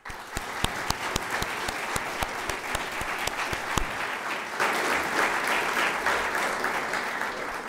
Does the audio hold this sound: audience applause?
yes